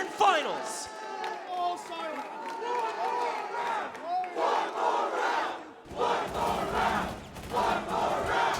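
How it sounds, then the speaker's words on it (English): A large esports crowd at a Counter-Strike Six Charlotte Major semifinal between Astralis and Oxygen chants "one more round" in rising and falling waves of shouting, with voices talking over the chant. "You hear the 1 more round chants from the crowd"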